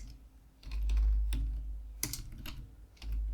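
Computer keyboard clacking as an SQL query is typed, a few quick keystrokes then a steady run of taps under a low background hum, with no voices.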